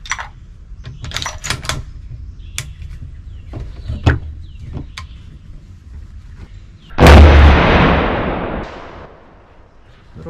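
A Tikka T3x rifle firing a custom 150-grain hand load at a 50-yard range: soft handling clicks and rustles, then one sharp, very loud shot with a rolling echo that decays over about two seconds.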